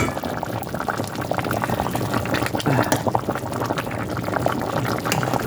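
Pork and whole potatoes simmer in a pot, a steady bubbling boil with soft liquid churning, close and continuous with no talk.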